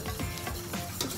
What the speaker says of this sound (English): And just give it a good old whisk.